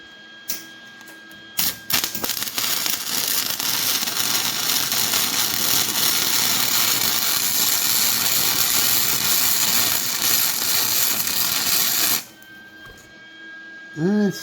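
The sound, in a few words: MIG welding rebar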